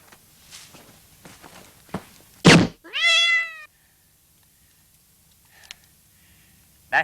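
A cat in a film scene being shot at, heard as a loud short bang followed right after by a single clear, drawn-out meow, with faint thumps and shuffling before it and a sharp knock at the end.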